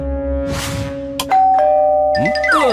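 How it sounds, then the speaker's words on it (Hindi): A two-tone doorbell chime in a children's cartoon rings out clearly over a steady electronic hum, followed by ringing tones and falling sweeps. "डोरबेल बजी है, फोन बेल नहीं"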